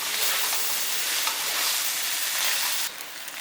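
Ramen noodles stir-fry in a hot pan, giving a bright, dense sizzle with a constant hiss that drops slightly in level near the end.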